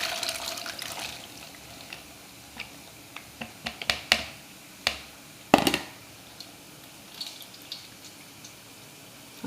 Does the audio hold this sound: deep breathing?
no